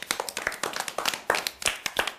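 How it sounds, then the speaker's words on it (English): Primary schoolchildren in a classroom clap together in a short, uneven burst of sharp individual claps, close and fairly light, with no talking. "Shall we give Chelsea and Jessica a clap"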